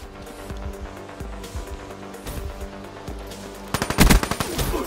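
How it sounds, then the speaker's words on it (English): Gunfire in the shooter game Call of Duty: Black Ops 3: scattered shots and game effects, then a loud, rapid automatic burst near the end, with no talk. "Those shots didn't register, huh?"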